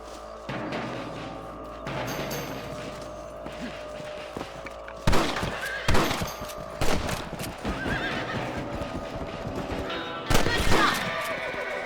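Gunshots at rabbits in the Red Dead Redemption video game, sharp broadband cracks at scattered intervals, loudest near the middle and end, over horse whinnies, hoofbeat clip-clop and a voice.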